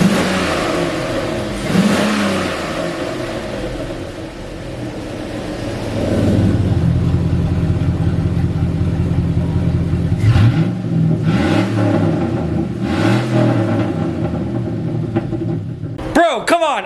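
A lowered Cateye vehicle's engine runs through an electric exhaust cutout with a deep, loud rumble. Revs swell and fall repeatedly, and a few sharp bursts come near the end.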